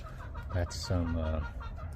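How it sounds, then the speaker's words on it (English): Chickens clucking nearby in a mango garden, a few short throaty clucks and a drawn-out cackle over a low outdoor hum. "The chickens kind of stay here."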